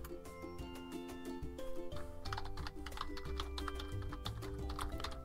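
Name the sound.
typing a password on a computer keyboard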